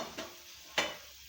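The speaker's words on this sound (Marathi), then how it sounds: "आता दुसऱ्या साईडनी पण चांगले तळून घ्यायचेत, म्हणजे शिजला पाहिजे बटाटा." Potato slices fry in a pan with a faint, steady sizzle, broken by two brief stirring or turning scrapes.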